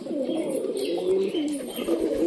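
Pigeons coo close by in a low, throaty, rolling call that repeats over a couple of seconds with a little background rustle.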